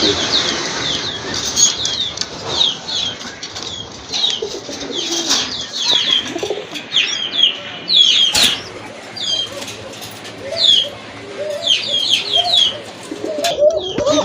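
Chocolate-coloured fancy pigeons for sale coo in low repeated phrases alongside bursts of wing flapping and scattered chirps from other birds, close and fairly loud, with no talk over them.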